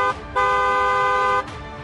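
A car horn sounds twice: a short toot, then a longer steady blast of about a second, both loud and clear over a low background hum.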